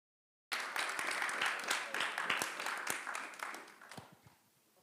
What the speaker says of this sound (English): Could I ask for one more applause, a round of applause to our fantastic panel